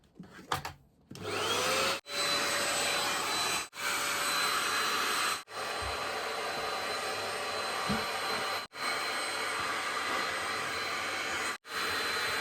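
A vacuum cleaner whines and roars steadily close by on an imitation tatami floor, its loud drone broken by several brief dips as the machine pauses or shifts.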